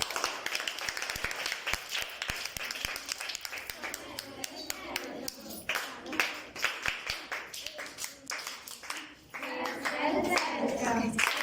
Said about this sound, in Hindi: यहाँ उपस्थित सभी अभिभावकों के लिए स्वागत ताली बजाओ।